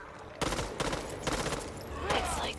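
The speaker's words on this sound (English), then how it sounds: "Molly, watch your fire." Gunfire in the zombie shooter Back 4 Blood, a loud fusillade of rapid shots in bursts across the whole span, mixed with game effects.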